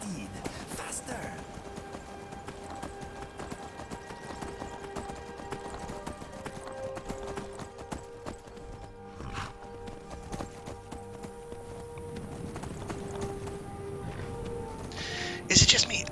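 Horse hooves clip-clopping at a steady galloping rhythm in a video game, continuous and moderately close, with a voice speaking over the hoofbeats.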